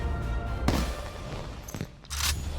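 Explosions and gunfire from Black Ops 3 Zombies on the Gorod Krovi map, a few sharp blasts standing out over a dense, continuous rumble of battle noise.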